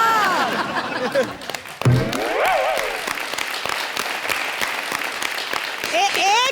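Fake applause played from a tape recorder on the stage of a Hindi TV comedy show: dense, steady clapping runs throughout while people talk loudly over it.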